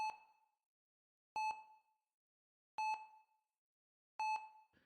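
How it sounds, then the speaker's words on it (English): Four electronic beeps at even intervals, each ringing tone fading quickly into silence, clear and isolated. "Let's all keep that incessant beeping in our hearts."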